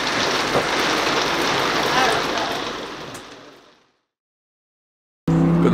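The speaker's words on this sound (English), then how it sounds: "Big raining." Dense, steady roar of heavy rain pouring on a surface in Oschersleben, fading out into silence before an abrupt cut to other sound.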